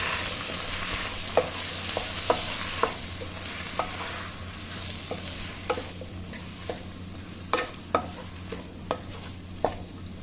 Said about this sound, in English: Add garlic and stir until fragrant.